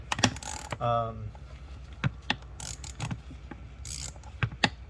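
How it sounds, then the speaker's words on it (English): A socket ratchet loosens a 10mm nut on the intake manifold of a 2008 VW Jetta MK5 2.0T FSI engine, giving one short buzzing run of pawl clicks among scattered sharp ticks and taps close by. "this is the 10mm nut that I am taking off right now"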